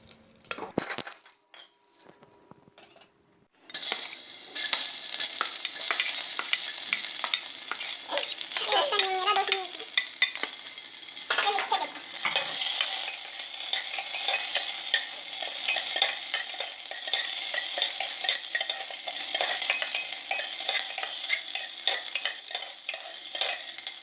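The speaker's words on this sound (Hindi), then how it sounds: "अभी मैं इधर जीरा डालूंगी। फिर मैं इधर तेज पत्ता डालूंगी।" Cumin seeds and bay leaves sizzle in hot oil in a pan while being stirred, a steady bright frying hiss with scraping strokes and occasional metallic clinks, heard up close after a brief quieter start.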